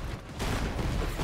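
Vehicle wheels exploding on arrival in the Borderlands 3 co-op shooter, a loud, dense run of rumbling blasts and crackling booms that follow one another with no talk.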